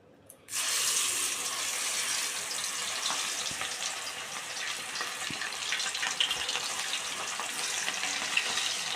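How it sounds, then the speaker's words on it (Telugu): Ivy gourd pieces hit hot oil for deep frying, setting off a sudden loud, sustained crackling sizzle that starts abruptly and continues close and steady. "ఆయిల్ కాగిన తర్వాత ఇప్పుడు ఇందులోకి ముందుగా మనం రెడీ చేసుకున్న దొండకాయ ముక్కల్ని వేసుకుందాం"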